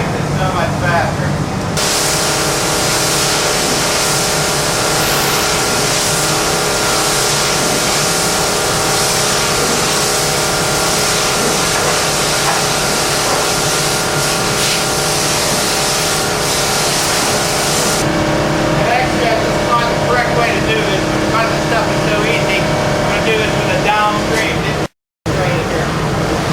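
An NMD80 spraying machine runs steadily in a loud, continuous hiss over a mechanical hum, with a shift in the spray tone partway through and a brief cut near the end.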